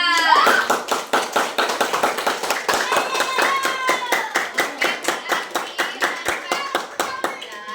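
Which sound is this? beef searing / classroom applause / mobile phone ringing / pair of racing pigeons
classroom applause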